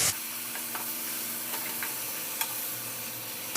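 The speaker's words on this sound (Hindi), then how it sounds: "अब इसके अंदर हम ये आधा किलो कीमा मशीन का है, बड़े का बीफ का, ये डाल रहे हैं।" Half a kilo of machine-minced beef keema sizzles steadily in a hot pan, a dense bright hiss with a few faint stirring ticks, close and without talk.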